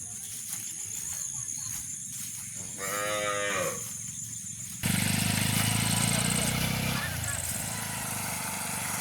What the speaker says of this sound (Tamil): இங்கே வந்து மாடுகள் நிற்க பாருங்கள்.